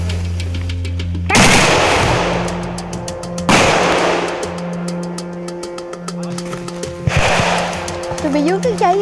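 Gunfire in a Vietnamese military drama series comes as three loud, separate bursts of shots, spaced a couple of seconds apart over a steady tonal background.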